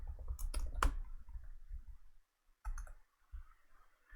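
A computer mouse gives a few close, crisp clicks in quick succession near the start, then one more click after a short silence, all against a quiet room.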